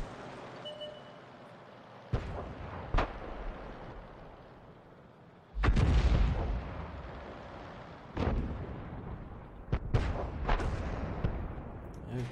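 Artillery shells boom from a 105 leFH18B2 self-propelled gun in World of Tanks: several heavy blasts fired at irregular intervals, one especially loud and near, each trailing into rumble over a low battle backdrop.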